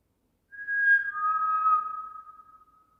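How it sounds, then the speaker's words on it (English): A single sustained human whistle inside an old prison, clear and steady, dipping slightly in pitch after a moment, then holding and fading out gently; no other sounds around it. "Spirit, if I whistle, will you copy me"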